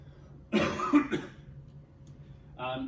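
A burst of coughing with a harsh, throaty edge, followed a moment later by a shorter second cough, close and fairly loud.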